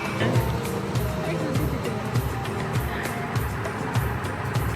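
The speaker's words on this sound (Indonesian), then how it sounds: "Oke, mobil kita mau diderek." Steady low rumble of a car in motion, evidently under tow, with a broadband road roar and faint periodic thumps throughout, fairly close and continuous.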